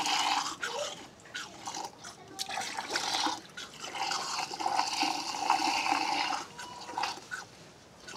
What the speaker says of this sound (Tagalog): Binubulabog ko lang yung tubig.